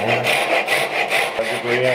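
A hand saw cuts a kerf in a wooden board for a mitered bridle joint, giving a close, rhythmic rasping sound of about seven even back-and-forth strokes heard alone.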